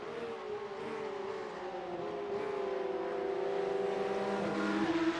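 A Porsche Cup race car in a racing video game revs at full throttle around Interlagos, its engine note climbing steadily and shifting up, loud and continuous with no voices.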